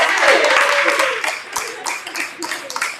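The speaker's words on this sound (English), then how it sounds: "Can we give a hand clap now for her?" An audience at a live city tour event claps by hand, a loud close burst of many hands that thins into scattered claps, with voices mixed in.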